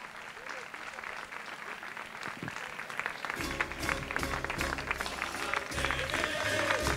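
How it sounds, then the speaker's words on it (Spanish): Festival ceremony crowd at La Trinidad celebrations in El Tablero de Maspalomas applauding, clapping building in intensity as music comes in underneath. "fuerte aplauso para él también"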